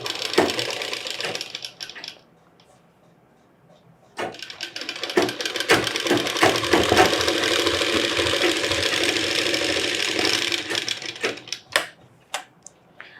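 A sewing machine stitching pleat fabric onto the main panel of a boy's Pathani kurta, running in loud rapid mechanical bursts with a near-silent pause between runs, close by.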